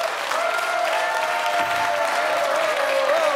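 A studio audience at a New Year's talk show episode greets Santa Claus with sustained, loud applause, many hands clapping evenly over faint tones in the background.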